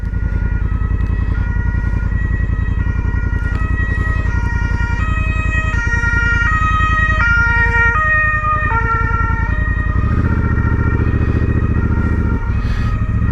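Ambulance siren wailing loudly in a steady rising and falling pattern as it passes on a road, heard from a motorcycle ride with a continuous engine and road rumble underneath.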